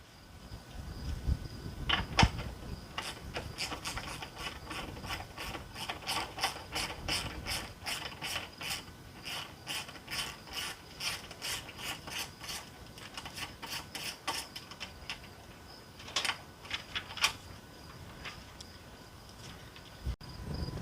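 A hand ratchet clicks in quick repeated runs while loosening a 10mm bolt on the AC bracket of a RAM TRX truck, close and crisp with short pauses between strokes.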